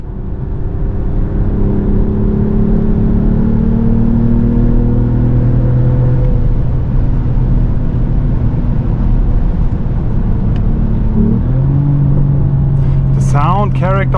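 A 2025 Mercedes AMG GLE53 hybrid coupe facelift at top speed on a German road, its engine droning loud and steady with wind and road roar, heard from inside the cabin.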